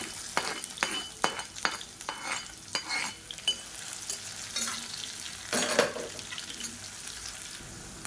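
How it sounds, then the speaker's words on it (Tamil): Sliced onions fry in sesame oil with curry leaves, a light sizzle under repeated scraping stirs of a spoon against the pan, close and fairly quiet. "வெங்காயம் நல்லா வதங்கிடுச்சு"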